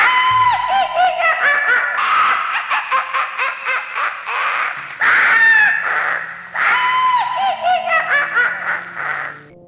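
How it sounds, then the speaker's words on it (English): A horror-style scream sound effect: loud, harsh, warbling shrieks that rise and break in repeated bursts, with no voices speaking. "Just then a scream was released."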